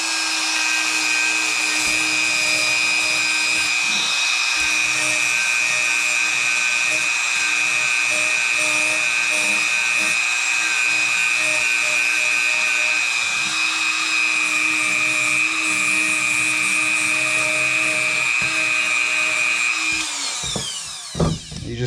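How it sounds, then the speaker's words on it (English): A Dremel rotary tool grinds down the head of a screw during a Hobao VTE 2.0 RC car build. It makes a loud, steady high-pitched whine for about twenty seconds, then spins down at the end. "And this one right here, take your Dremel."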